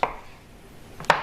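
Two crisp knife strikes through oranges being quartered on a cutting board, one at the start and one near the end, with quiet between them.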